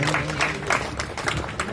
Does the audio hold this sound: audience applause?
yes